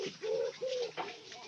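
Pigeons coo close by, three soft, low, throaty notes in quick succession, fairly quiet.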